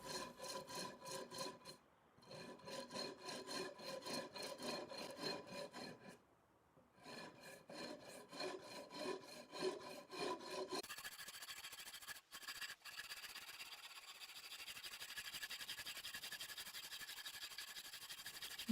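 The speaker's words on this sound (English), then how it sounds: "having to come in and sand it all flat." Sanding a wooden guitar neck with stone inlay flat: steady rhythmic rasping strokes in bursts with short pauses, then a continuous finer hiss of abrasion.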